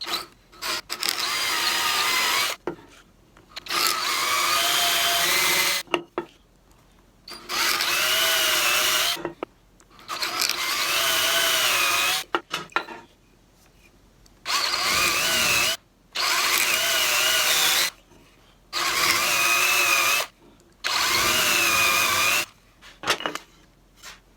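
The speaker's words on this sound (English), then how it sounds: "I'll drill them out this way" A power drill bores holes in wood while a canoe seat is built, running in repeated loud, close bursts of several seconds each, separated by short pauses.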